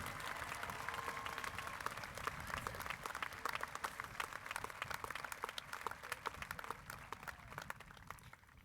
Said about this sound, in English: Please give all of these Harriton retirees a round of applause.